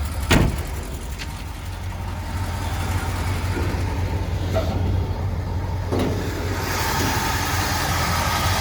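An older car engine idles steadily in an open engine bay, a continuous low rumble at moderate level with a few sharp clicks and knocks over it.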